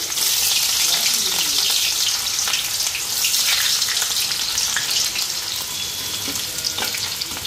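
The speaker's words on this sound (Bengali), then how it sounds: "পেঁয়াজটা ভালো করে ফ্রাই করে নিই।" Onions frying in a pan for a cabbage dish, giving a loud, steady, close sizzle with occasional soft stirring scrapes and no pauses.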